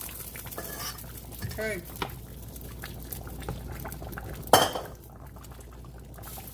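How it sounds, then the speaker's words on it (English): Shrimp and butter going into a pot for a seafood stew, with clattering metal, a stirring scrape and a sharp clank near the end over a low cooking hiss; a voice speaks one brief word. "so in go the shrimp and the butter."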